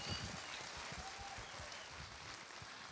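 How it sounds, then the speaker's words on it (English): Audience applause at an island cultural show, a steady wash of clapping lasting throughout, moderately loud with no voices over it. "Can we give them another round of applause?"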